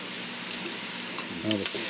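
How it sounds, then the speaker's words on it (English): Oil being added to a pan as Chicken of the Woods chile verde cooks, giving a steady close sizzle of frying with a brief louder burst near the end and no talking. "I'm actually going to add a little more oil"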